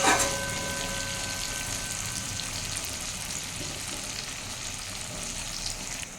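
Onions sizzle and crackle steadily in a hot pan, a close, continuous frying hiss with no voices.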